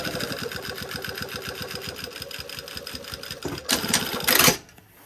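A home sewing machine runs a steady, fast stitching rhythm of close repeated ticks, sewing a garment body and collar, then stops after a brief louder burst of rustling near the end.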